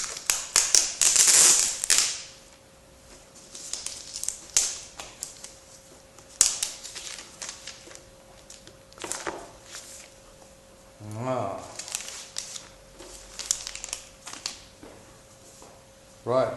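New iPad 3 packaging being unwrapped: crinkly plastic and paper rustles, scrapes and taps come in bursts, close and fairly loud, with someone talking between and over them.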